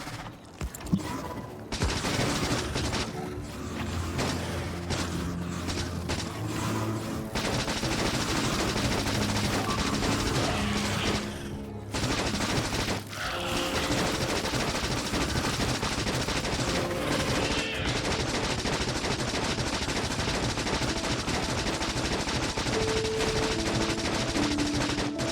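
Dense, sustained gunfire from turrets and weapons in the factory-building game Factorio, a loud continuous rattle of rapid shots running almost the whole time with only brief dips, layered over mechanical game noise.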